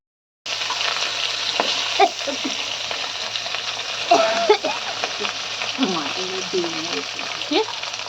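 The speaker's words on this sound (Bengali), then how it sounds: "আর একটু বেশি লাল লাল করে ভেজে নিচ্ছে ভাজা।" Pieces of rohu fish sizzle and crackle in hot oil in a pan, a steady busy frying hiss broken by a few louder pops and stirring scrapes, with faint voices in the background.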